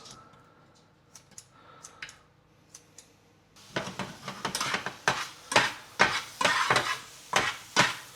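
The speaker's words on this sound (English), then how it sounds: "We use scissors because it saves me having to use a chopping board." Scissors snip through raw chicken in a kitchen, a run of repeated sharp cuts that comes close and distinct after a few quieter clicks.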